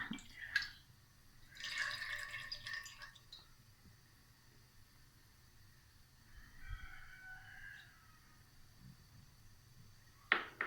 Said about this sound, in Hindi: ये मैंने ऑयल की 1 प्याली ली है, ये ऐड कर दूँगी।